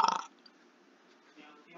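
A short, loud, rattling burp at the start, close to the mic, followed by faint room noise and a brief bit of quiet talk.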